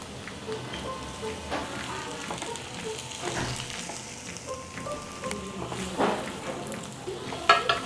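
Fried prawns sizzle in a pan while being stirred, a continuous crackling hiss with scraping stir strokes and occasional clinks of utensil against the pan, fairly close and moderately loud.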